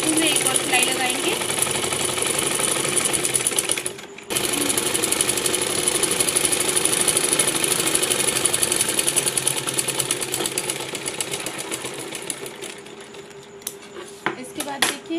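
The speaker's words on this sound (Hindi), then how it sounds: "और इसके पास में एक पैर का मार्जिन छोड़ते हुए एक और सिलाई लगाएंगे।" A sewing machine stitches a salwar hem in a fast, steady mechanical whir with light rattles, pausing briefly partway through before running on and then slowing toward the end.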